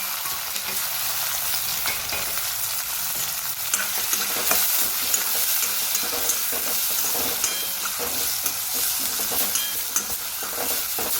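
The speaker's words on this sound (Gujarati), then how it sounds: "બધી સાથે સરસ સોતે કરી લઈએ." Bay leaf, ginger, garlic and chilli paste, onion and tomato sauté in a pan with mustard seeds for a Gujarati drumstick curry, a steady close sizzle with frequent scraping stir strokes and no voices.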